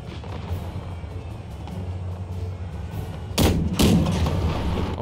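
Two sharp, loud musket volleys crack in quick succession over a steady low battlefield rumble in Empire: Total War, with massed musketeer units engaging amid cavalry.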